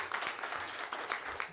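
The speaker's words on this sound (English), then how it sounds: "Very well-deserved applause, I agree." A school board meeting audience claps in a brief, dense burst of steady applause from a room of people.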